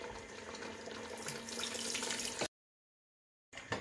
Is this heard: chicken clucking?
no